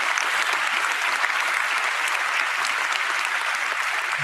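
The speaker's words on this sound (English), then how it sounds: "Big round of applause for everybody who came out here tonight" Sustained audience applause at a live event at the World Economic Forum in Davos, Switzerland: dense, steady clapping from a crowd that holds an even level from start to finish, with no voices rising above it.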